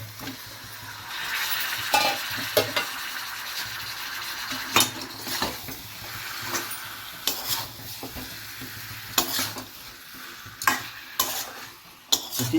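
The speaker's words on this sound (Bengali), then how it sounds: "এইভাবেই আমরা মাংসগুলোকে সম্পূর্ণ ভালো করে মাখিয়ে দেবো মশলা" Chicken pieces stirred with spices in a pan, a spoon scraping and clinking against the metal over a low sizzle, with irregular knocks and clacks repeating throughout and no talk.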